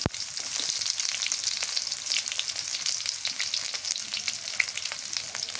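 Chopped onion and cumin seeds fry in hot oil in a pan. A close, steady crackling sizzle with scattered sharp pops continues throughout, with no voices.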